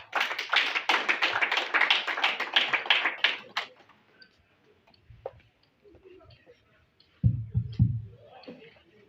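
Audience at an ambassador nomination ceremony in Goma gives brisk, dense applause for a few seconds that quickly fades, followed by quieter scattered sounds and a few low thumps near the end.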